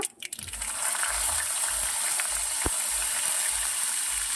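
Mustard seeds and cumin crackling in hot oil, a steady close sizzle with faint popping and a single sharp tick partway through.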